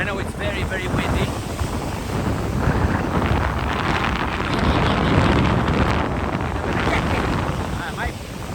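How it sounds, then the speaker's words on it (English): Strong wind roars steadily across the microphone while descending a hill outdoors, a dense, unbroken rush that swells slightly in the middle and masks any other sound. "but I know it's very, very windy."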